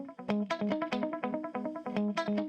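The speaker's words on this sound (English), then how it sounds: "On these guitars, I used the Fairchild compressor." Electric guitar run through a Fairchild compressor, picked notes with a sharp, pronounced attack in a quick repeating rhythm, close and steady, with a slightly effected, chorused sheen.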